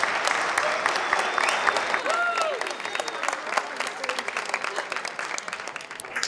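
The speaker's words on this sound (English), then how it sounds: "Let's get a round of applause for all the parents and families that are here with us tonight." Applause for parents and families at a student earthquake-relief fundraiser: a crowd claps steadily and fairly loudly, with cheers and a voice over the clapping.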